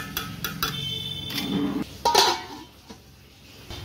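A lid clatters onto a metal cooking pot in the kitchen, with a few sharp clinks and a brief metallic rattle, close and fairly loud, then quiet.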